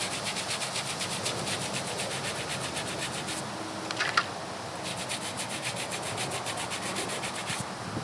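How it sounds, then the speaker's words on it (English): An old toothbrush dipped in sudsy solution scrubs the carved letters of a marble headstone. Fast, steady bristle scratching sounds close up, with a brief pause and a small knock midway before the scrubbing resumes. "I'm going to simply dip it in my sudsy solution and I'm going to get to scrubbing"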